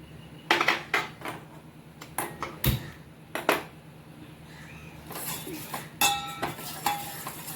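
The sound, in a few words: pan placed and agar-agar added, utensils clinking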